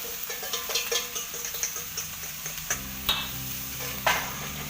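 Cobra meat is stir-fried in a wok for a spicy stir-fry: a constant sizzle with repeated rhythmic scraping strokes of a spatula, and a couple of louder metallic scrapes toward the end.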